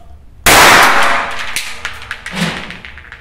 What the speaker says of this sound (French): J'ai mis une balle dans la caméra.